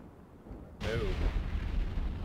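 A space explosion in the game Eve Online bursts in with a sudden loud low boom, then a rolling rumble that lingers after a quieter lead-in.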